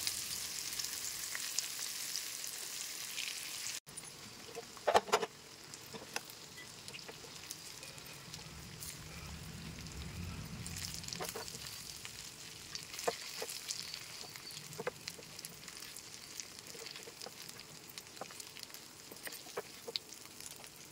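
Chanduva fish pieces frying in oil in a home kitchen, a steady soft sizzle with scattered crackles and pops throughout, a brief clatter near the start, no talking.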